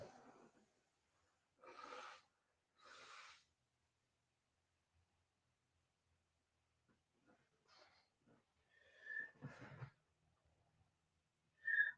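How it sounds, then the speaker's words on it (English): Two short, forceful nose blows sound close by, followed after a quiet pause by a few sniffs and snorty exhales. "guess I need to blow my nose"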